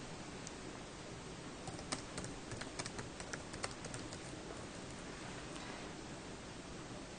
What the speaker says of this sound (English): you can just click into the text field and enter a text.